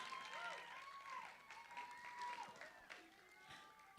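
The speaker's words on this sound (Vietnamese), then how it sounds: "And a big round of applause." Audience clapping steadily at a live pageant for high school contestants in Southern California, a broad wash of applause over a hall, with an announcer's voice and music-like tones running through it.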